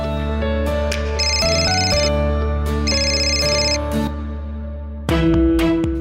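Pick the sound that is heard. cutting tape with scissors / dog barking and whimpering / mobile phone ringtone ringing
mobile phone ringtone ringing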